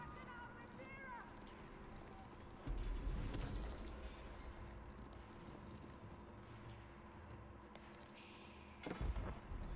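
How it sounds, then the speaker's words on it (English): Cannon fire in a real-time strategy game lands as two dull, booming thumps, far apart, under almost constant excited commentary and game noise. "I hear a cannon, bro."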